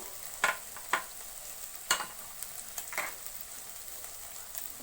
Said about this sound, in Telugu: ఇప్పుడు ఇవన్నీ వేసుకొని కొంచెం బాగా ఫ్రై చేద్దామండి